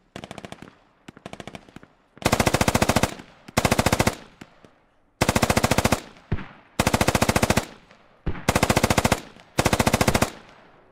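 Rapid automatic gunfire in a squad shooter video game, loud repeated bursts of machine-gun fire, each lasting about a second, separated by short gaps and quieter single shots.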